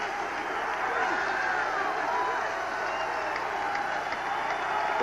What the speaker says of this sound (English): Pretty good sized little crowd here at Nickerson Field, making some noise